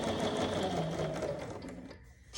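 A sewing machine runs steadily, stitching the short end of fabric for a half apron, its close whirring drone continuous for about two seconds before stopping abruptly, followed by a brief faint clatter.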